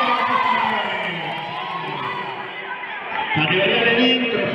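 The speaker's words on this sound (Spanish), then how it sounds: "Un aplauso a los campeones." A crowd at a futsal tournament cheers and shouts for the champions in a hall, a dense, steady roar of voices with children's yells mixed in and a louder swell near the end.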